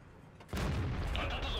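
A single heavy tank cannon blast in a World of Tanks match erupts after a quiet moment, followed by a sustained rumbling roar and a higher whine, loud and close.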